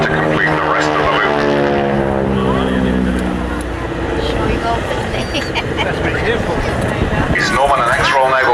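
A propeller-driven warbird flies a loop at an air display, its piston engine droning loudly with a shifting pitch as it dives and climbs, while a commentator speaks over it.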